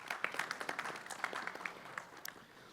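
An audience at a national solar energy conference claps as a journalist is welcomed onto the stage, a light, fairly distant patter of applause that thins out toward the end.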